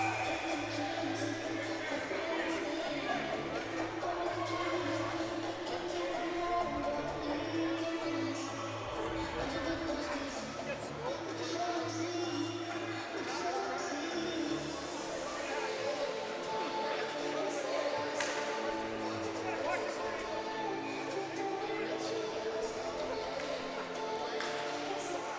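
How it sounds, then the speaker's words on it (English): Hockey crowd at an arena rallying behind the Orangeville Blitz during a playoff game, a steady murmur of fans with scattered shouts and rising chants, mixed with some talking. "Crowd trying to get the blitz going"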